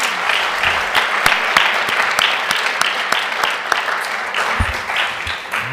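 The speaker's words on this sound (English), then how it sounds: "So please give them one more round of applause." An audience at a Belton ISD school board meeting gives a round of applause: sharp, distinct claps ring out in a loose rhythm, fairly near and steady throughout, with no talking over them.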